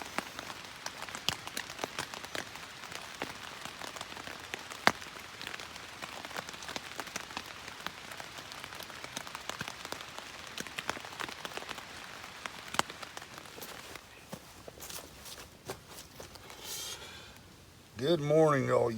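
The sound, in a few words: rain falling outside during an overnight camp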